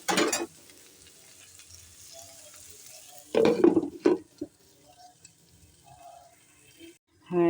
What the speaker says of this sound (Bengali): এবার একটু নাড়াচাড়া হবে।